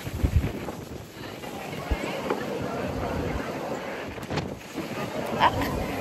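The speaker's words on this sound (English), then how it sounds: "This is how windy it is." Steady gusting wind in Rio de Janeiro buffets the microphone with a low roar and rumble, and a voice talks faintly beneath the noise.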